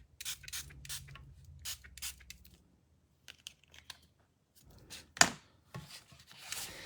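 A spray bottle mists water onto a Glass Mat Studio glass mat for watercolouring with Stampin' Write markers, giving several short, close hissing bursts with quiet pauses between them.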